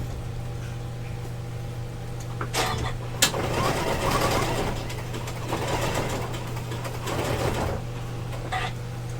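A sewing machine stitches a seam on a wire frame bag, running as a steady, close mechanical whir with a low motor hum and a few brief clicks, no voices.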